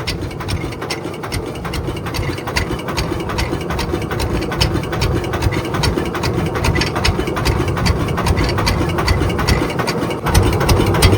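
A fishing boat engine on the Matla river in West Bengal chugs steadily and loudly throughout, a continuous low rhythmic drone with no break.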